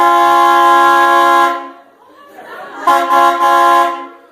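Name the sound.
train horn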